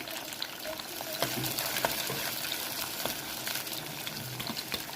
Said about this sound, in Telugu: ఉల్లిపాయలు ఎర్రగా అయ్యే వరకు కొంచెం వేయించుకోవాలి